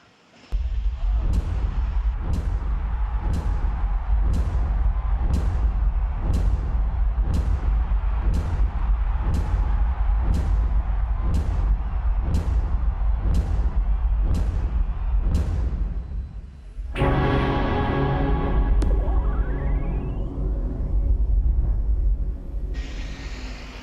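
Caterpillar construction machines fire up at the CONEXPO 2020 technology demo, with a steady run of loud, evenly spaced booming bursts for about sixteen seconds, then a sustained roaring engine rumble with rising whine.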